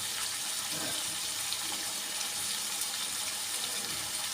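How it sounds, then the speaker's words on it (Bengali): A small amount of water poured into a pan of frying desi chicken curry, a steady close running gush of water over a faint kitchen background. "সামান্য পরিমাণ পানি দিয়ে দেব"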